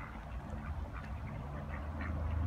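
Ducks quack softly and intermittently at a distance over a low, steady outdoor rumble.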